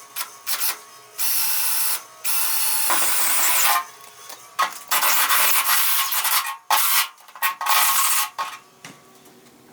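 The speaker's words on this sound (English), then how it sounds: "I've got to drill a hole through the back panel to allow the wiring harness to come through." A drill bores through the back panel of a Kubelwagen in several loud bursts separated by pauses, the bit whining and grinding as it works through the metal.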